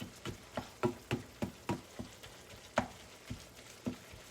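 Greasy ground beef hamburger meat sizzles in a pan while a utensil chops through it, giving about a dozen sharp, irregular scraping knocks over a steady low fry, close and fairly quiet.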